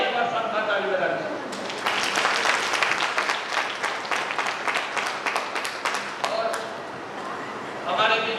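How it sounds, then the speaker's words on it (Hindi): A seminar audience at a large business meeting claps in unison, a run of rapid, roughly rhythmic claps lasting several seconds, with voices and a sustained tone before and after the clapping. "एक बार साथ ताली बजा दीजिए।"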